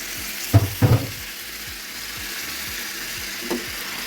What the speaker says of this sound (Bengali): উল্টে পাল্টিয়ে কষিয়ে নিচ্ছি অফ ক্যামেরায়